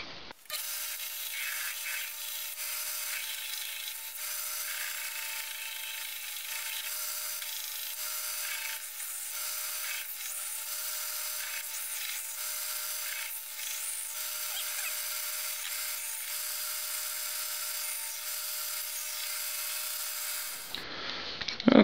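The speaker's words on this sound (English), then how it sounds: "on to the belt sander. So we'll use that to kind of file most of the profile there on this." Belt sander shaping the profile of a wooden push stick: a continuous, even abrasive hiss and motor drone at close range, running unbroken for about twenty seconds before cutting off.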